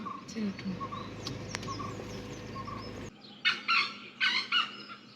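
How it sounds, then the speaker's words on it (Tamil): After a stretch of muffled background noise, a jungle fowl breaks out with several loud, choppy calls in quick succession, near and clear, in Mudumalai forest. "காட்டுக்கோழியோட சவுண்டு."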